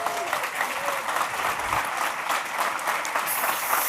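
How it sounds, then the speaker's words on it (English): Steady audience applause at a community forum on reducing gun violence, a dense wash of clapping hands sustained throughout, with faint voices underneath. "Give her a round of applause."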